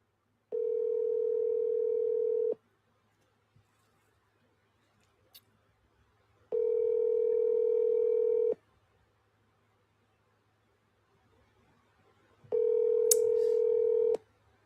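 A phone call rings out over speakerphone: three long, steady ringback tones about two seconds each, spaced by roughly four-second silences, clear and close.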